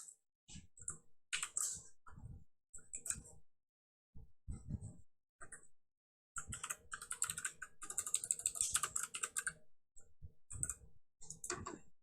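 Computer keyboard keys tapped in a Visual Studio Code session come in close, clicky bursts of typing separated by short silences, with a quick flurry of rapid presses partway through and no talking.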